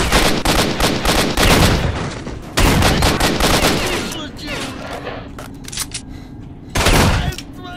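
Gunfire in the video game S.T.A.L.K.E.R.: Shadow of Chernobyl: loud bursts of rapid shots and booming reports, with a pause and quieter crackle before one final heavy burst near the end.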